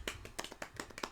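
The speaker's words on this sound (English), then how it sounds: "Golf clap." Soft, quiet, polite clapping: about half a dozen light claps at a steady pace, close by.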